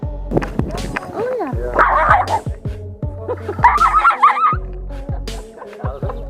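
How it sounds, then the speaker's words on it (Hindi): A German Shepherd barks in short bursts, several sharp woofs mixed with yips and whining, close and loud, with voices talking in between. "एक जर्मन शेफर्ड डॉग को एक छोटे और आम कुत्ते पर भौंकना"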